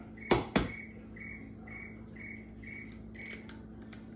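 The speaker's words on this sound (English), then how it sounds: "I hear crickets." Crickets chirp in a steady, evenly spaced rhythm, soft and close, after two sharp knocks at the start, in an otherwise quiet kitchen.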